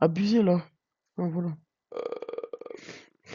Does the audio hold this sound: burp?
yes